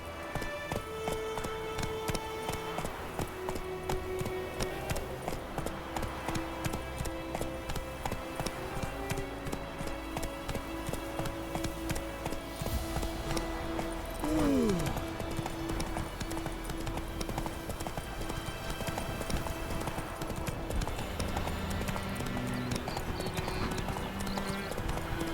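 Roach, the horse in The Witcher 3, gallops with steady clip-clop hoofbeats throughout over a busy game soundtrack, with a brief whinny-like sweep midway.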